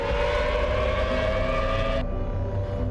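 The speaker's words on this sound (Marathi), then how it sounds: "शत्रूचा मिसाईल हल्ला होण्यावेळी सायरन वाजण्यास सुरुवात होते।" A civil defense air raid siren sounds during a mock drill, a loud, steady wailing tone that fills the clip, with a brief shift in the background partway through.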